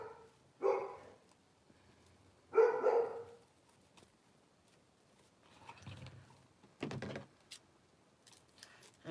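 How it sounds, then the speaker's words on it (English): A dog gives a few separate barks, two sharper ones early and a couple of softer, lower ones later, spaced by pauses in a quiet indoor room with faint clinks. "You don't even know why she's barking."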